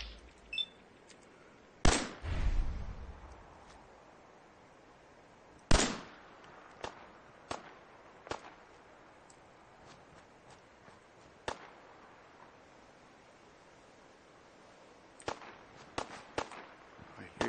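Sharp gunshots in Fallout 4 at the USAF Satellite Station, starting with two loud close reports and followed by a scattered run of fainter, more distant shots at uneven intervals.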